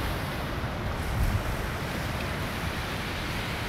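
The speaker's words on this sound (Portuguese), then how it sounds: "Tem altas ondas nessa segunda-feira, ó, mais uma" Ocean surf on a Brazilian beach on a Monday with swells up to about half a metre, a steady broadband wash of breaking waves with light wind noise, continuous and fairly loud, with no voices.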